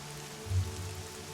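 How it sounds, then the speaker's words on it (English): Rain pouring in through an open emergency hatch, a steady dense hiss of falling water with a brief low thump partway through, and no talk over it. "Shut the emergency hatch. Stop any more rain from coming in."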